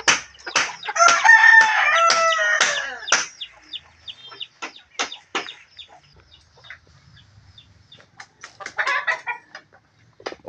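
Native Bisaya rooster crowing in a rural backyard, one loud, close crow followed by scattered clucks and chicken calls, then a second burst of clucking near the end.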